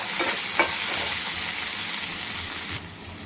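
Ginger garlic paste stirred in a hot frying pan for a prawn masala: a loud, continuous frying hiss with a couple of quick spatula scrapes near the start, close by and without speech.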